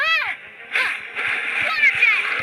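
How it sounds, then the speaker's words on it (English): Water jets splash and spray in the video game Genshin Impact, a busy sloshing burst that swells and recurs across a couple of seconds, with a character's voice calling out over the top. "Wipeout! Water jet!"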